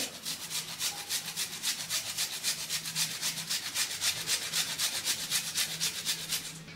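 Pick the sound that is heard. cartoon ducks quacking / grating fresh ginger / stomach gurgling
grating fresh ginger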